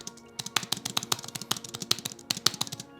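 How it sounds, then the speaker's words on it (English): Logitech MX Keys Mini keyboard keys tapped in a quick, uneven run of about two dozen crisp, close clicks, with no talking. "Let's check out the spacebar."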